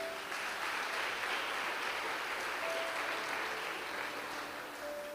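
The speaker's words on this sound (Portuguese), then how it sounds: "Você pode aplaudir Jesus?" A church congregation applauds during a sermon, a steady wash of distant, soft clapping that holds evenly throughout with no clear voices on top.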